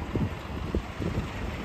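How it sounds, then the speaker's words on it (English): Wind blows steadily outdoors on a Manhattan street in New York City, a continuous low rumbling buffet against the microphone with a few stronger gusts, heard alone without talk. "It's not that cold, but it's very windy out here in New York City right now."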